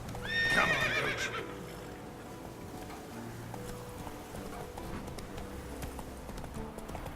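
Galloping hoofbeats of a horse in The Witcher 3, with a loud whinny near the start, then steady clip-clop continuing over game ambience; a voice briefly speaks.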